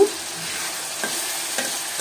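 Onion frying in oil left over from frying kebabs in a kadai makes a close, steady sizzle, with occasional scrape and stir sounds.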